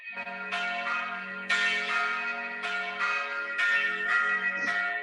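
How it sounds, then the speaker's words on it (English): Church bells peal, as if for a wedding, during a tabletop Dungeons & Dragons session, with several overlapping rings and a sustained low hum running underneath, steady and fairly loud, with no talking over them. "The bells go off again."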